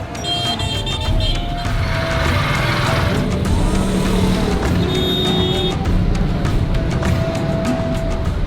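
A jammed street in Lahore: close, constant engine rumble from cars and motorbikes, with several car horns honking on top of the steady roar of traffic.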